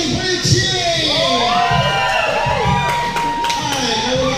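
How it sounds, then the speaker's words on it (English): Children cheer at an opening ceremony, a loud sustained crowd roar of shouts, whoops and high rising calls that fills the whole stretch. "are you ready for your cheering?"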